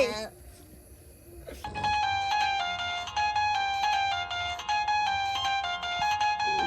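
A phone ringtone plays a repeating bright electronic melody, steady and fairly loud, after a brief bit of talk.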